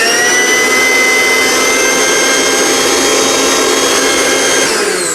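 A Flipkart Smartbuy 500 W mixer grinder runs on its low setting with a loud, steady, high-pitched motor whine close by, winding down slightly at the end.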